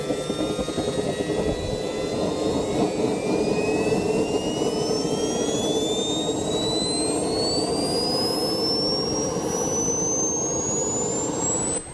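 A small model jet turbine engine runs steadily, a loud continuous roar topped by thin whining tones that climb gradually in pitch as it spools up, close and unbroken until a slight drop at the very end.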